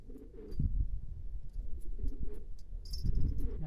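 Tumbler pigeons coo in a steady low murmur from a nearby loft, with a few brief higher chirps scattered over the soft, continuous calling.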